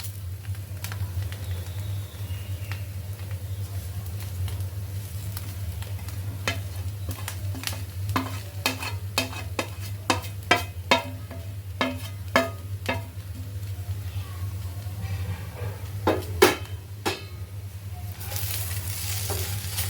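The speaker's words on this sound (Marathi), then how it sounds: "दोन मिनटासाठी कांदा आणि खोबरं परतायचं आहे" Chopped onion and dried coconut roast in a hot pan for a clam masala, a spatula scraping and tapping in uneven bursts over a steady low hum, with a faint sizzle near the end and no talking.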